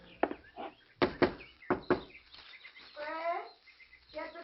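Sharp knocks on a door in a radio thriller, a single rap then a pair and another pair of close, loud raps, followed by a short stretch of talk.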